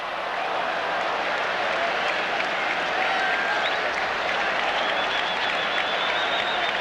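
A packed 1988 baseball stadium crowd roars and claps in the late innings, hoping for a ninth-inning rally. The dense, continuous cheering stays loud and unbroken, with no talk above it.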